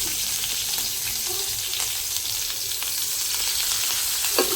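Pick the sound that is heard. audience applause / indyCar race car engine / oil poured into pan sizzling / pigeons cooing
oil poured into pan sizzling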